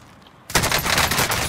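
Rapid bursts of automatic gunfire from Call of Duty: Modern Warfare erupt after a brief quiet start, loud and close, with dense repeated shots rattling continuously to the end.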